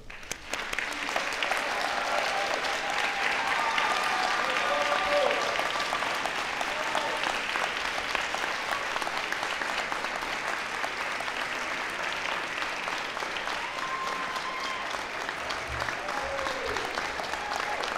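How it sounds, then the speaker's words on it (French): Graduation ceremony audience applauding, a dense, sustained wash of clapping from a large crowd that holds steady throughout, with no one speaking over it. "je vous invite à les applaudir chaleureusement"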